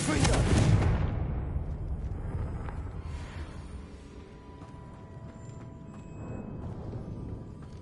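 A Confringo fire spell explodes in the Hogwarts Legacy video game, a loud booming blast with a crackling burst at the start that decays into a rumbling tail and faint lingering game ambience.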